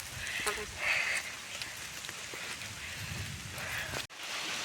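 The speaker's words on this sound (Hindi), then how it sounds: "अब आने लग गई है बारिश, आ ही चुकी है बारिश।" Rain coming down outdoors on a village walk, a steady, dense hiss throughout with a few brief knocks and faint voices in the background.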